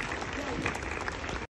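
A school audience at a grandparents day event claps loudly and steadily for a short burst, then the sound cuts off abruptly.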